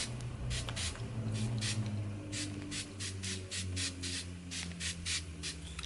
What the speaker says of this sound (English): So I'm going to spray you down.